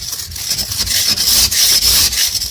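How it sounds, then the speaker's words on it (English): A handheld ice scraper rasps over a car window during an Atlantic Canada blizzard, clearing snow and ice in loud, close, repeated strokes with short pauses between them, no voices. "How to use a scraper."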